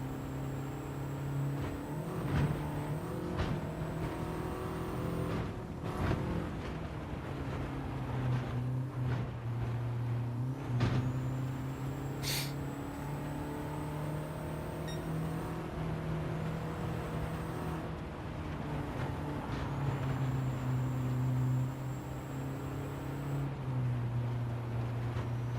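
Race car engine in Gran Turismo 7 held high in third gear, a steady droning rev with occasional shifts and surges, running continuously and fairly quiet throughout with no talk.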